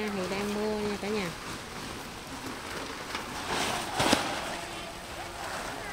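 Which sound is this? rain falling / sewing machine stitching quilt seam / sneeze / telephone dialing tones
rain falling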